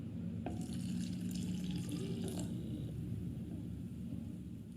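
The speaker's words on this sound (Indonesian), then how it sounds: "Tuangkan sebagian susu ke campuran kuning telur." Hot milk poured from a pan into a whisked egg yolk mixture for choux cream filling, a steady liquid pour with a soft rumbling wash running throughout, close and continuous at a low, even level.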